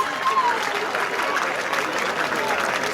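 A church congregation claps and cheers in praise, a dense, continuous burst of applause with voices mixed in.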